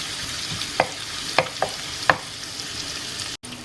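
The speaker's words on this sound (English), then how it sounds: "So I'm just gonna cook the bacon until it's crispy" Bacon fries in a pan toward crispness, a steady close sizzle with a few sharp spatula taps and scrapes spaced through it and a brief cut-out near the end, with no voices.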